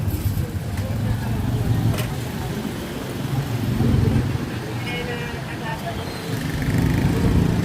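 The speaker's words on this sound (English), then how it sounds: "Of course, lots of traffic." Steady street traffic with cars, buses and motorcycles passing close by near an oval town square by a public market, a continuous roadway rumble with swells as vehicles go by.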